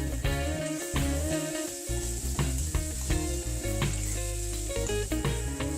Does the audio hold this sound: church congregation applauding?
no